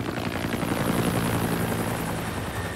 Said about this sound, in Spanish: Lo llevaron afuera, donde un helicóptero lo esperaba para llevarlo al hospital.